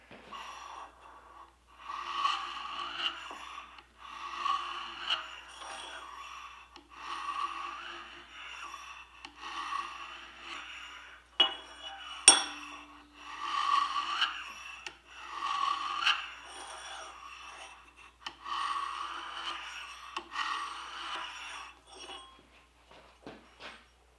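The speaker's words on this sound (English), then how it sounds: "Now I'm going to go ahead and scribe my center line." Scribe scratching a center line along a copper streak dagger blade, a series of short raspy scraping strokes at close range, repeated steadily with brief pauses between passes.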